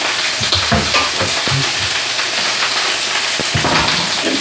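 Beef tenderloin steak sears on high heat in a hot pan, a steady broadband sizzle running throughout with scattered pops and occasional stirring or utensil scrapes, close and fairly loud.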